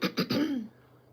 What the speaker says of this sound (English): I'm still like coughing.